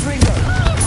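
A spell blast from Hogwarts Legacy, heard as a short burst of explosive impact over a dense bed of game sound and music, loud and close.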